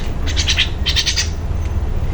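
A pet myna bird gives a few short, close chirping calls in two quick bursts over a low background hum.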